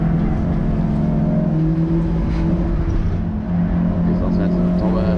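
GT5 race cars battle closely on the Vålerbanen circuit, their engines making a loud, sustained roar with shifting tones under steady commentary.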